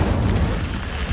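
A loud, dense roaring boom from the Incendio fire spell in the video game Hogwarts Legacy, filling the whole brief moment without a break.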